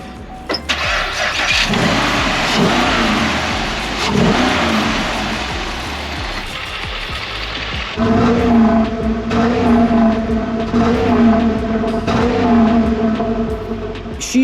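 A Chevy Impala sedan with a 5.3 liter V8 cranks and catches near the mic, then revs loudly in several rising and falling bursts before settling into a rough, steady idle.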